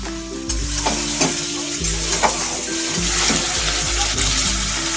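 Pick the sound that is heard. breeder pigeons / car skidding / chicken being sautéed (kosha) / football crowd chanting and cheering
chicken being sautéed (kosha)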